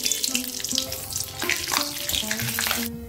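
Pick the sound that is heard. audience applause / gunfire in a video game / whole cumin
whole cumin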